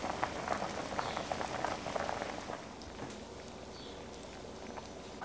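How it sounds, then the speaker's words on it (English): Carrot soup comes to a boil in a pot, giving a faint, steady bubbling and popping that eases off slightly partway through, with no talking. "I'm going to bring this to a boil before we lower the temperature to a simmer"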